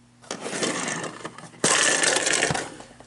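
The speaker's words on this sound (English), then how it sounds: "Oh, and Winsect just smashed." Combat robot Winsect takes heavy hits in an exhibition fight, a loud, broadband mechanical din of whirring weapons and grinding metal with a sharp, heavy impact partway through before the clamor continues.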